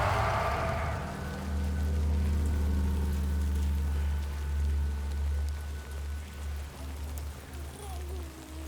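Timefall rain in the video game Death Stranding 2 falls as a steady, close hiss of rain on surfaces over a low rumble, continuing throughout.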